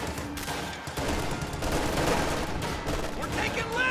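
Video game battle gunfire, sustained bursts of rifle and machine-gun fire crackling continuously in the background while someone commentates over it.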